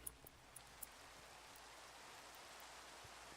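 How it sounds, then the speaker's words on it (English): Steady broadband hiss of rain falling in a blocky building game, with a few faint drip-like ticks at the start, continuous and fairly soft with no voices. "it's raining"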